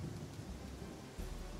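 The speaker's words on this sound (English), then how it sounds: "Freaking hate thunderstorms." Thunderstorm in the fantasy role-playing game Pathfinder: Kingmaker, with dense steady rain and low rolling thunder that swells into a louder rumble near the end.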